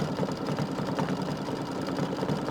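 An embroidery machine stitches a decorative fill, producing a quiet, rapid mechanical chatter and hum with an even repeating rhythm.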